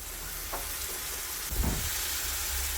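Dried prawns (sode), rinsed in water, hit a hot pan with tomato and tempering oil, giving a steady broadband sizzle and hiss with a louder burst of frying as they drop in, no voices.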